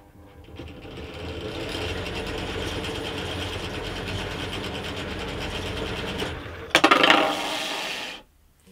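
Silverline pillar drill spinning a Stewart-MacDonald Safe-T-Planer: a steady, fairly quiet mechanical whir with a fast rattling vibration runs for about eight seconds, briefly louder near the end before stopping abruptly.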